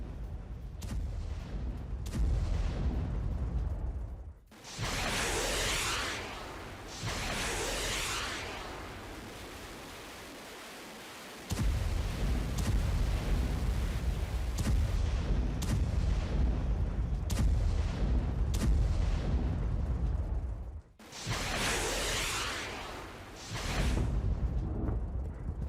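Explosions from an Iranian ballistic missile attack on Israel, near the Negev nuclear research center: loud, heavy booming rumbles roll on continuously, broken by a few brief pauses, with no voices.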